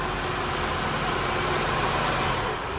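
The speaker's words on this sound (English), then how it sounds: "This is a K24 engine. So here is the noise." A Honda K24 engine on cold start, running loud and steady at idle with a continuous even rumble and no pauses or voices.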